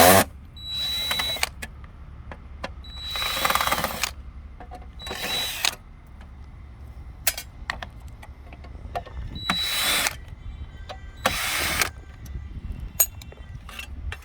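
A power screwdriver whirs in repeated short bursts while removing screws from the back panel of the electrical box on a Frymaster single electric fryer, with clinks and handling noise between the runs, close and fairly loud.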